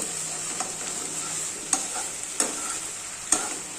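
Vallarai (Centella) leaves sauté in a pan for chutney with a constant, close hiss of frying. A few sharp spatula knocks and scrapes break through the sizzle at uneven intervals.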